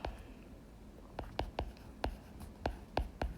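Pen or marker writing out an equation on a board during a physics lecture, heard as a series of short, sharp scratchy strokes in irregular rhythm, close and fairly quiet, with no talking.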